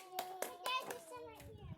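A young child claps their hands in a home setting, a few sharp claps spaced across the moment, with a voice and an adult talking over them.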